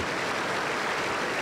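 Applause during a Sunday Lord's Supper church service in Peru, a short dense burst of hand clapping from a congregation, steady and fairly faint, with no voices over it.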